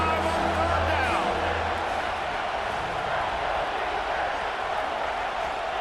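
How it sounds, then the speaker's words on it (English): A stadium crowd at an Ohio State college football video game roars on third down, a broad, dense cheer sustained under a commentator's voice and steady game music. "The Buckeye crowd alive on 3rd down."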